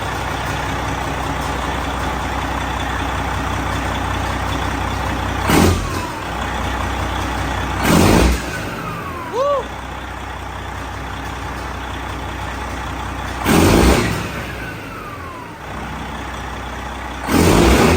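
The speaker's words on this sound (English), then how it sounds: "Let it build oil pressure for a minute and we'll give her a little rev." Diesel engine of a cabover truck idling steadily after start-up, a low continuous rumble broken by several short, louder bursts and hisses, with a brief rising whine near the middle.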